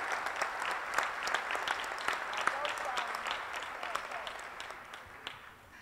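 An audience at a Martin Luther King, Jr. commemoration applauds award recipients with scattered, sharp claps that fade toward the end, while a voice carries on over them.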